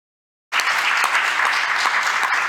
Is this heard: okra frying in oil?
no